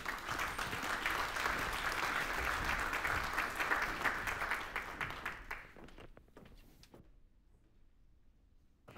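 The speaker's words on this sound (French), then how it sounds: "On peut l'applaudir" An audience at an opening session of a BnF event applauds as a speaker comes on stage, loud sustained clapping that thins into scattered claps and fades to near silence.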